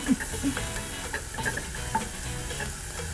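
Food with pine nuts sizzles and fries on a powerful stove while a utensil scrapes and stirs in the pan, with irregular clinks and taps over a steady crackle.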